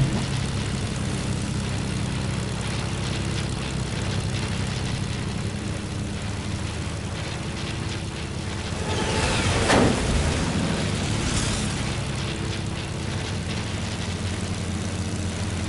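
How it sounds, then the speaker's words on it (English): Steady propeller-plane engine drone in the Fortnite video game, loud and continuous with a brief swelling roar partway through, no talking. "I just get out of the plane now, bro."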